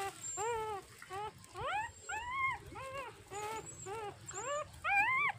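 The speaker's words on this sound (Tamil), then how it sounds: "இது வந்து நான் வீட்டில் வளர்க்குற நாய் தான்" A house dog whimpers and whines in a series of rising and falling cries, about ten in quick succession, fairly close and clear over a low background hum.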